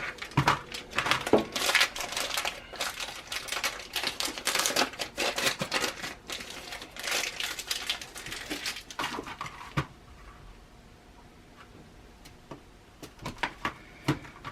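Knife cutting pepper jack cheese sticks in half, heard as a rapid run of sharp, close clicks and taps on a board for about ten seconds, then only a few scattered ticks over quiet.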